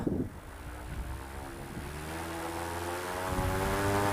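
A paramotor engine and propeller power up outdoors with a droning hum that climbs steadily in pitch and loudness. Wind buffets the microphone, and no one speaks.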